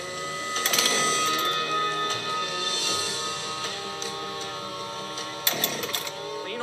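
A chainsaw bucking felled trees into standard lengths for milling, a steady harsh mechanical whine held close and loud across the whole stretch, with brief rattling surges near the start and end as the chain bites.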